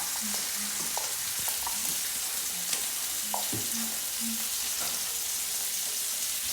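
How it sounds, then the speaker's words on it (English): Steaks sizzling steadily in a hot pan with butter, a constant bright fry hiss with small pops and a few faint clinks of a spoon, no talking. "Let's put a little bit of butter in for the steak."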